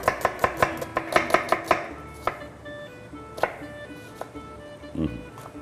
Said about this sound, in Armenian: Սոխ ենք կտրատում